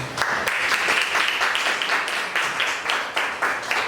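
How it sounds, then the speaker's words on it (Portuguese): A church congregation applauds during a communion service, dense, loud clapping with rhythmic surges from many hands filling the room. "Quantos podem aplaudir a Deus, irmãos?"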